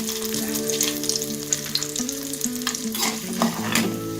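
Sautéing in a pan for lemon rice, before peanuts go in, gives a steady frying sizzle with spatula scrapes and stirring, while tonal background music plays and nobody talks.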